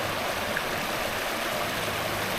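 River water flowing over rocks along the Cabelands Trail in Durham, North Carolina makes a constant, close babbling rush with small gurgles scattered through it and no voices.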